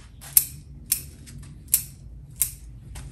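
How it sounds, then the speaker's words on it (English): Scissors snip the branch ends of a maple bonsai forest, four crisp separate cuts spaced about half a second apart, close and clear over quiet background. "So what I'm going to do is just with the scissors, prune all the ends without even looking at the detail."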